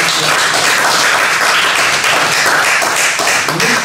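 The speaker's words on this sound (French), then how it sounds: "Donc on applaudit très fort." Loud, dense clapping from an audience at a question-and-answer talk, continuous and even throughout with no pause.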